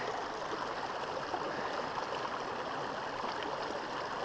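A mountain stream in the Cordillera Blanca of Peru flows steadily, a close, continuous rushing and gurgling with no pauses.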